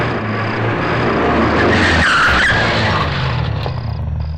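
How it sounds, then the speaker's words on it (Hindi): A car brakes hard to a stop with a long, loud tire skid over a roaring engine, the screech swelling at the midpoint and then tailing off. "ड्राइवर गाड़ी रोको।"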